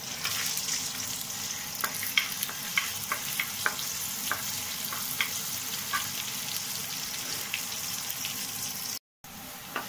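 Chopped garlic and green chillies fry in hot oil in a pan for a fenugreek and potato dish, giving a steady close sizzle with light scraping stirs and a brief dropout near the end.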